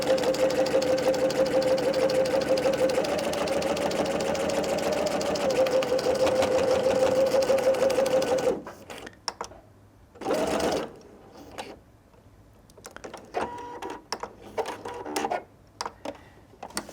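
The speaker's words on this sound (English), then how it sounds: "So it's just going to sew right over it." Close and steady, a sewing machine runs over a fabric tab on a drawstring backpack, a humming motor with fast needle chatter for about eight seconds, then gives way to scattered clicks, handling noises and brief short bursts of stitching.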